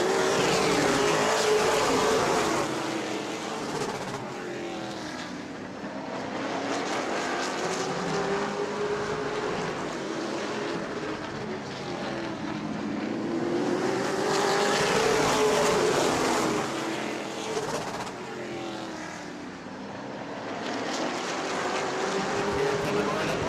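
Race cars roar around an oval track in a weekly Auburndale racing event, engines swelling and fading in repeated passes as the pack laps behind the lap car, with an announcer talking over the noise.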